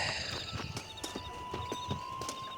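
Horse hooves clip-clopping at a steady walking rhythm in Red Dead Redemption, about a dozen distinct close hoof strikes over a constant ambient background with a faint sustained tone, no talking.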